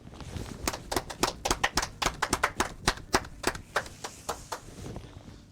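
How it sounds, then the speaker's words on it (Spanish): Applause from an audience at the close of a set of completed courses, sparse and uneven claps ringing out close by in a small room, alone without talk over it. "quiero pedirles un voto de aplauso por haber culminado estos cursos con mucho éxito"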